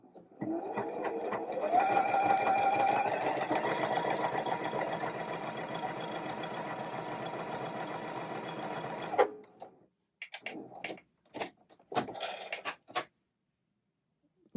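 A sewing machine stitches stretchy baby waffle fabric in a long, steady mechanical run of about nine seconds, then stops and restarts in several short bursts.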